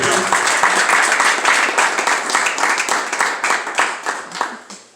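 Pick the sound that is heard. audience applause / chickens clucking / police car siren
audience applause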